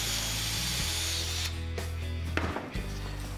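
A power drill bores holes through a wooden template board, a loud continuous whine that shifts pitch as the bit bites and slows, with brief drops as it breaks through the wood.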